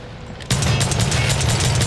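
Sustained rapid gunfire from a Far Cry 5 zombie mode, bursting in abruptly after a quiet half second and continuing loud and dense with a low booming undertone.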